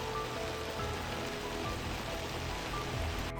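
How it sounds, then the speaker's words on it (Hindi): Heavy monsoon rain pours on a mountain trek, a dense, steady hiss of drops hitting surfaces close by, unbroken and with no voices. "तो अभी बहुत ज़्यादा बारिश हो रही है"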